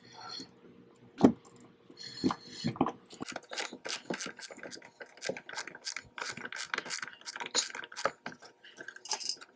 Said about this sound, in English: That electric screwdriver was too long, so I went ahead and started using the ratchet.